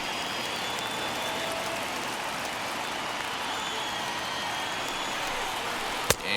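A huge baseball crowd of over 39,000, Mets against Nationals, roars and applauds continuously as a dense, steady wash of cheering that holds for several seconds, with one sharp crack near the end.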